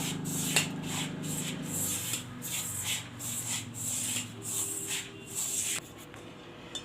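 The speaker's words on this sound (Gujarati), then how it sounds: "હવે આને આપણે મિક્સ કરીએ અને એનો લોટ જેવું બાંધી લેવાનું છે આપણે" Sweet biscuit dough with coconut and milk powder being mixed and kneaded by hand, a rhythmic rubbing and pressing with repeated soft strokes, close and fairly quiet without speech.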